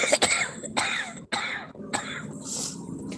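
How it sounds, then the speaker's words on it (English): Several sharp coughs from a person with a cold and runny nose, close and fairly loud, spaced irregularly with brief throat-clearing sounds between them and no talking. "My nose is running and I'm coughing."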